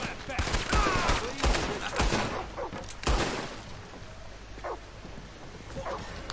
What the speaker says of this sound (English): I shot that dude like 70 times